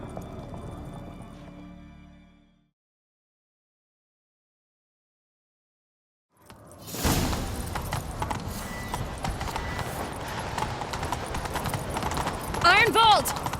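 Horse hooves gallop in The Witcher 3, a busy, steady clip-clop rhythm that bursts in after a silent gap and runs on beneath shouting voices and game sounds.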